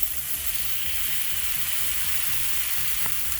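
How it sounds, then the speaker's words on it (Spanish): Chicken gizzards sizzle steadily in a pan, a continuous bright frying hiss with small pops and faint stirring underneath, with no voices. "Y vamos a freír esto por un par de minutos."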